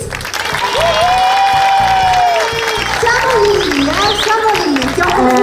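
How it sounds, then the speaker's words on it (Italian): A crowd claps and cheers at an outdoor Miss Venice Beach beauty pageant evening in Sottomarina, with sustained loud applause over music and shouting voices for the whole stretch. "Un super applauso"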